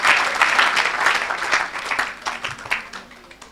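A church congregation breaks into loud, dense applause that carries on for several seconds and thins out toward the end.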